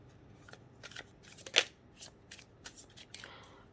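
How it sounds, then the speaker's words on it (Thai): A small, slippery tarot deck being shuffled by hand, giving a run of crisp riffling and card-slapping bursts, one louder flurry midway, close and alone with no talk. "ทีนี้มาถึง การสับไพ่กันบ้างนะคะ"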